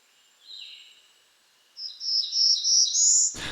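A black-throated blue warbler sings in the wild: a faint opening note, then a louder, buzzy ascending phrase of several high, rasping notes, clear against a quiet background, ending with a sudden brief knock.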